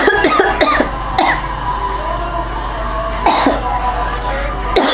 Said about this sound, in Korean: 왜 이렇게 기침해?